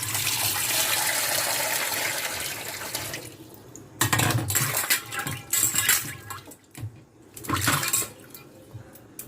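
Mangoes are washed by hand in running water at a home kitchen sink, a steady tap stream first, then splashing and sloshing in uneven bursts, close and moderately loud.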